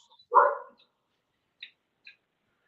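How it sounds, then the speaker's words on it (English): Excited dogs bark outside an open window: one loud, fairly close bark burst, followed by two short, fainter yips further off, with silence in between. "I don't know if you can hear them barking."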